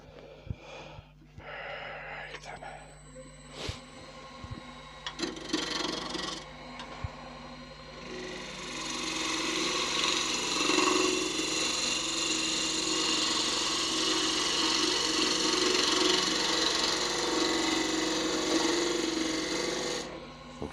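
A wood lathe with a tool shaving a knotty, flexing eucalyptus wand under light pressure: sparse clicks and taps at first, then a steady, close rasping scrape that runs on without a break.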